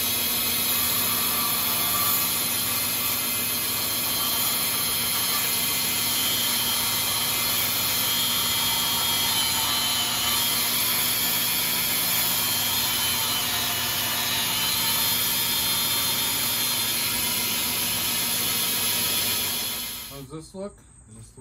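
Power tool cutting a cork bark tube in half for a tarantula enclosure, a steady loud whirring hiss running continuously for about twenty seconds before stopping, with a few clicks at the end.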